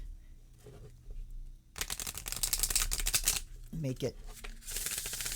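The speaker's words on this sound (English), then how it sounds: "It does shuffle nicely." A deck of oracle cards is shuffled close by in two quick riffling bursts with a short gap between them, and a person speaks briefly in between.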